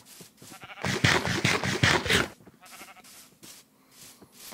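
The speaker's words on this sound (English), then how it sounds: "Just have to make sure my sheep is coming with me." A sheep in the Minecraft video game bleats in a quick burst of loud, close cries, followed by softer, fainter repeated calls.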